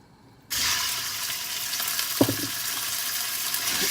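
Chicken pieces dropped into a cup of hot oil for Punjabi-style chicken fried rice, bursting into a loud, steady close-up sizzle after a quiet moment, with a brief clatter partway through and no talk.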